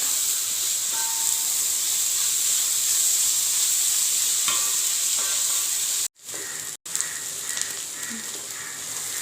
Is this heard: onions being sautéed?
yes